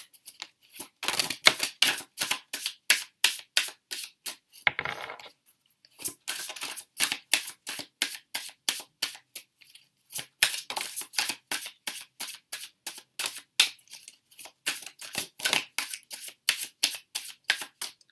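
Tarot cards being shuffled and dealt out, a fast run of crisp riffling flicks in bursts with a short pause, close and clear with no talking.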